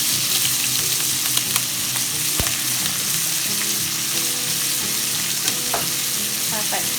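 Cooked ham and sweet pepper fry in hot oil with a loud, steady sizzle and crackle, while occasional stirring scrapes sound close by.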